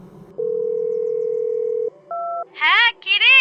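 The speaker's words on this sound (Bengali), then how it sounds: "বাড়িতে একটা ফোন করে দিই।" A telephone gives a steady dial tone of about a second and a half, then a short two-tone dialing beep, followed by voices speaking over the line.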